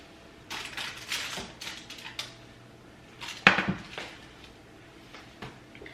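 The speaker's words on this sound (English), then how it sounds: "I'm actually gonna transfer them in here with the caramelized onions" Roasted vegetables tipped from a tray into a pot of caramelized onions, giving scattered clatters, scrapes and soft thuds of utensils and cookware at close range, with one sharper knock midway.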